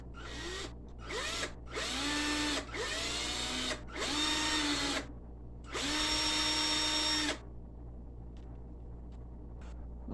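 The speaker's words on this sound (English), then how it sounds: "I'm going to drill this hole." A power drill bores a hole in a leather wallet strap. The motor whines up in four short bursts and then one longer run, loud and close, with quiet pauses between them and no speech.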